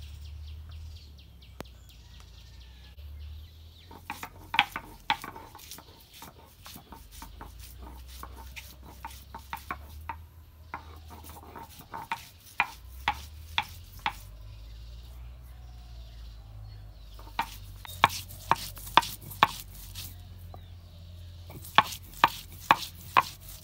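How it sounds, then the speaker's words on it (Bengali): Onion, garlic and ginger crushed on a traditional grinding stone, heard as sharp knocks and scrapes that come in irregular bursts with pauses, over a low background hum and faint chirps. "এখন আমি পেঁয়াজ রসুন আদা মুচ বাইডা নিব শিল্পটার মধ্যে"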